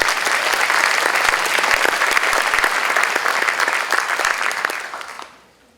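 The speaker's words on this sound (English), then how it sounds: "I'd like you to give a round of applause to all these people." At a disaster preparedness community event, an audience applauds the people who came out to speak. The clapping is loud, dense and sustained, then tapers off quickly and fades to near silence at the end.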